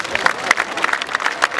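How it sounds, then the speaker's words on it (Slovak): An audience applauds at the 2016 Rusyn festival. Scattered claps form a steady, moderately loud patter without pause. "Jeden veľký potlesk."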